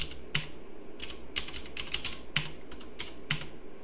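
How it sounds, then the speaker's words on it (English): Keys clatter on a computer keyboard as a terminal install command is typed, a quick run of close, crisp clicks with short pauses and no talking. "Type sudo apt install"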